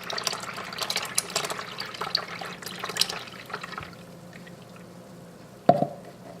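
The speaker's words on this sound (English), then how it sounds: "I'm just going to take my buttermilk and I'm just going to add it to the liquid like this" Buttermilk is poured into beet cooking liquid, a close, continuous liquid pour and splash that gradually tapers to quiet, followed by a sharp clink near the end.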